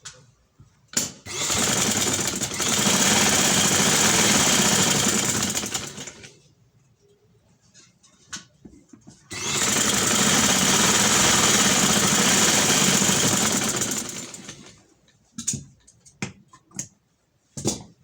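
A sewing machine stitches a shoulder seam on a ladies' garment in two long, steady whirring runs, each several seconds long, separated by a pause filled with small clicks and handling sounds.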